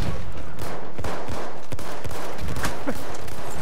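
Dense, rapid gunfire from the video game Battlefield 1 crackles continuously and loudly, with overlapping shots and bursts forming a chaotic firefight with no pause.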